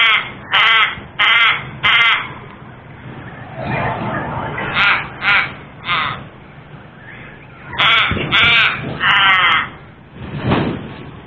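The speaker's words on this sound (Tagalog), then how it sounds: "Parang nag-uusap yung dalawang uwak" Two crows trade loud, harsh caws back and forth outdoors in a snowy mountain setting, bursts of two to four calls in quick succession separated by short pauses, with light background noise between them.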